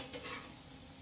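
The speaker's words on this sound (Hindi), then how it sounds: "तो बस अब इनको हम ऐसे उलट पुलट के अच्छे से फ्राई कर लेते हैं चारों तरफ से" Dahi vada batter balls deep-frying in hot oil while being turned over, a soft steady sizzle with a brief scrape near the start, close and alone.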